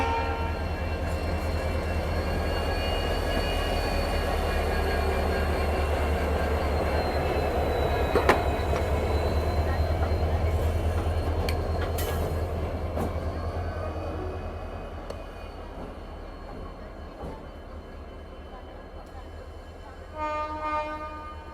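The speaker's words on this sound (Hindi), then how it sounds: "ये डीजल वाला पावर भी यहाँ पे निकल गया, देखो।" A diesel locomotive pulling away after getting a shunting signal at an Indian railway station, a steady low engine rumble with faint wheel clatter and brief squeals, gradually fading as it moves off.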